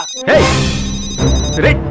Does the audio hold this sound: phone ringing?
yes